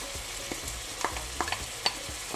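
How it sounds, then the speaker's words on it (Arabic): Onion frying with minced meat in a pan, a steady close sizzle with a few sharp clicks and scrapes of stirring scattered through. "توا باش نزيد البصل نتاعي باش نقليه بالكدا مع اللحم"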